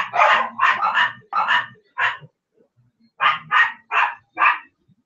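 A dog barks in a house, a quick run of five close, loud barks, a short pause, then four more, with no talk over them.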